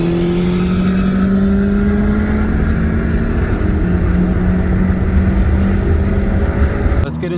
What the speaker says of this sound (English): it's just so nice to be able to mash this gas and from 80 just completely take off